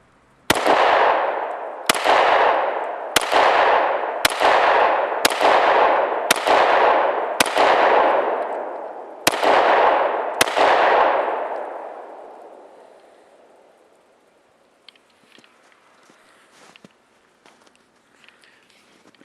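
A Glock 27 .40 caliber pistol fires Winchester white box ammunition, eight sharp, loud shots spaced about a second apart with long reverberant tails, followed by faint handling noise.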